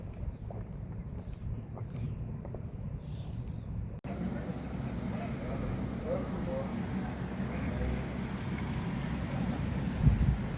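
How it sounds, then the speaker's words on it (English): Steady rain on the Appalachian Trail hissing across the whole clip, with a low rumble and some indistinct talk underneath; it grows louder and denser partway through. "It's raining."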